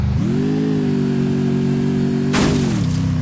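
A vehicle engine runs loud and close: a steady mechanical drone whose pitch climbs at the start, holds, then drops near the end after a brief burst of broadband noise.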